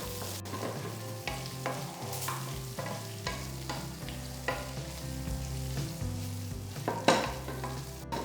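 Onion and capsicum sautéing in a kadai, a soft steady sizzle with repeated scraping stirs of a spoon against the pan, close and quiet with no talking.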